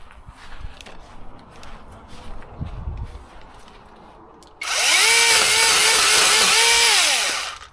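A Seesii 2-in-1 pole saw starts up after quiet outdoor shuffling and footsteps, then cuts with a loud steady high-pitched motor whine and rising and falling tones as it bites, running close and alone until the end.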